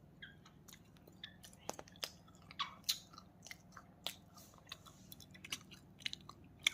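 Close, quiet crunching and chewing of a packaged Indonesian snack, irregular crisp bites and mouth sounds repeating throughout, with soft speech mixed in.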